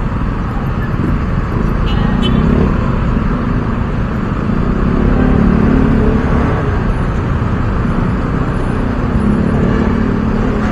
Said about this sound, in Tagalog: Mga traffic.